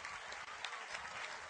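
Applause for Venezuela's golden generation of youth athletes, a brief burst of dense, steady clapping from a crowd, faint and distant.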